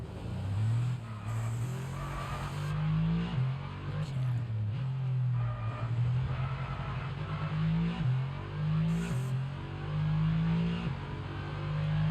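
In F1 22 an F1 car engine howls loudly and continuously, pitch climbing and dropping through repeated upshifts and braking, with a few bursts of tyre squeal.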